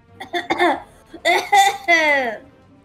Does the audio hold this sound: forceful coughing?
yes